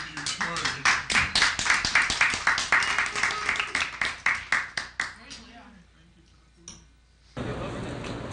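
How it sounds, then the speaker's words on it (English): Diners in a co-op house clap in appreciation of the cooks, a dense run of hand claps that fades out over several seconds, followed by quieter room noise. "At many houses, diners clap in appreciation of the cooks."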